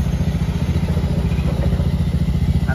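A Yamaha NMAX scooter engine runs close by at a steady idle, a low rhythmic thrum with a light clattering pulse and no talk over it.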